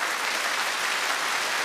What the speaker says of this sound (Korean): 연말 대회 진출할 우리 세 팀의 친구들에게 큰 박수 보내주십시오